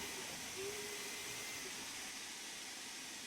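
Steady broadband hiss of a steam locomotive venting through open cylinder cocks in the Train Sim World 3 game, continuous and even throughout with no talk.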